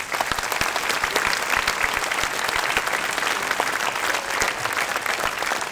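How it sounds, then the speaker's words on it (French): A crowd at a New Year's greetings ceremony in 2024 gives dense, sustained applause, many hands clapping at once at a steady level for several seconds with no speech over it. "Vous pouvez les applaudir."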